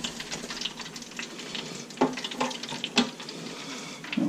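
Channel catfish fry in a pan with a steady close sizzle and scattered louder pops and crackles of hot oil.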